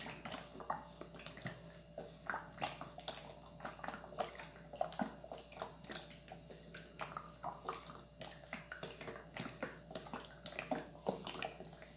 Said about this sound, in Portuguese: eu vou continuar mexendo aqui, ó, que já tá ficando grossinho